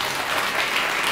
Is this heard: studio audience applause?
yes